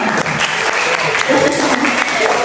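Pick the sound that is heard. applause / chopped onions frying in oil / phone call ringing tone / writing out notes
applause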